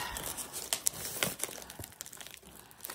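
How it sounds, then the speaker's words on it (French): Close, crackly crinkling and rustling of packaging as a parcel is opened, with sharp plastic crackles in the first half and softer handling noise after, no talking. "maintenant, dans quel sens vais-je ouvrir ce colis?"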